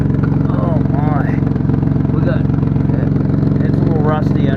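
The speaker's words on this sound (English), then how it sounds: "Definitely got an exhaust leak. Bad exhaust leak." A rusty lemon car with a bad exhaust leak idles in a loud, steady, pulsing putter that throbs evenly throughout while people talk over it up close.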